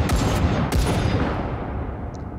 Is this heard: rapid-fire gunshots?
yes